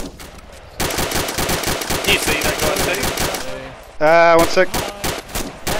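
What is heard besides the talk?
gunfire from the video game ArmA II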